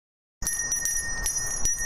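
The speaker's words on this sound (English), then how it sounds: "It comes from the Salvation Army bell ringers, who are outside grocery stores and malls around the holidays" A Salvation Army bell ringer's hand bell clangs in repeated bright, rhythmic shakes, loud and close, starting abruptly after a moment of silence.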